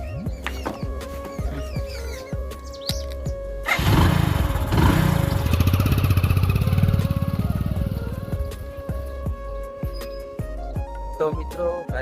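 A motorcycle engine starts and revs loudly for several seconds before settling into a steady idle, with birds faintly audible in the background.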